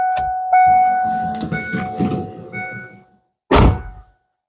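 Key-on warning chime inside a Mustang with a turbo 460 engine, ringing in steady dings about once a second with sustained tones, followed by a loud, close thunk near the end.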